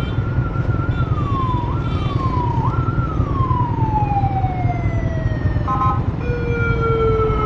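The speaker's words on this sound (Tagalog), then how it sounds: "Ay, ambulansya." An ambulance siren sweeps up and down in a wailing pattern over a constant rumble of heavy city traffic, holding steady and prominent throughout.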